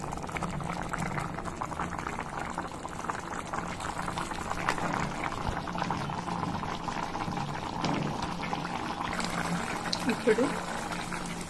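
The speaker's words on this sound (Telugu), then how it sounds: "ఒక 10 మినిట్స్ ఉడకాలి." Food simmers in a pot with a steady bubbling, gurgling wash of liquid throughout, close and continuous, with a few brief clinks near the end.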